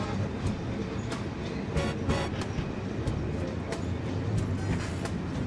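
Trains in the Nintendo Switch puzzle game Conduct Together rolling along with a steady rumble and repeated sharp clicks of wheels over rail joints, constant and moderately loud, with no voice over it.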